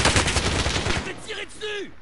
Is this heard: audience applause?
no